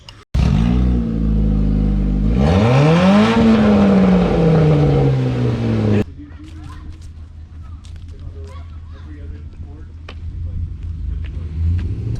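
A 2002 Nissan Sentra SE-R Spec V is driven hard. Its engine revs loudly, with pitch climbing and falling through the gears, then drops to a quieter, steady cabin drone with faint clicks.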